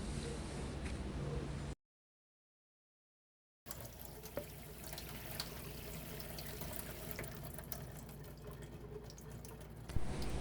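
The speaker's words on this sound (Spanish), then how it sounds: "aquí se puede observar cómo el agua sale con mayor alcance desde el agujero más bajo" Water jets stream from holes in the side of a container in a hydrostatic pressure demonstration, giving a steady, moderately quiet splashing and trickling that runs on before and after a brief gap of silence.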